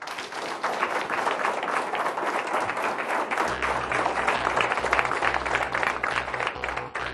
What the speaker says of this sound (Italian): lo sai cosa significano tutti questi applausi, vero?